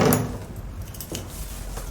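A bunch of keys jangles briefly in a quiet indoor scene of the British TV drama Coronation Street: a sharp metallic clinking burst at the start, then faint scattered rattles fading into stillness.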